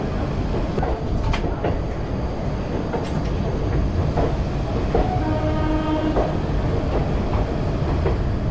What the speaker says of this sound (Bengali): ট্রেন আমাদের ছেড়ে দিয়েছে রামপুরহাট জংশন থেকে